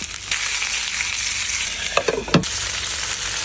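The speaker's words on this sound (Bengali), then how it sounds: "আস্তে আস্তে সুন্দর করে এভাবে দুই সাইডে যে লাল লাল করে এভাবে ভেজে নিতে হবে।" Stuffed bamboo shoot rolls fry in a pan with a steady, bright sizzle, broken near the end by a few quick scraping and stirring knocks.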